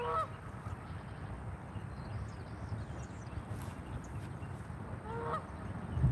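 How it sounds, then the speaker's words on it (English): Geese honk and call back and forth across a lake outdoors, a few distant nasal honks breaking through steady wind and water noise. "Loma, bunch of geese out here. They're like yelling at each other across the lake"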